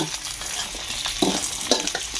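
Chili and chunks of Mekong giant catfish sizzle loudly in an oiled pan, with a steady hiss of frying and occasional louder scrapes and clacks as the mix is stirred.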